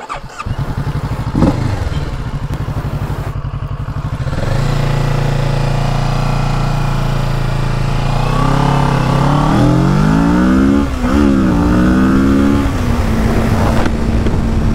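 A Kawasaki Ninja 650 motorcycle accelerates hard, its engine roaring loud and close with rising pitch sweeps as it climbs through gears, no talk over it.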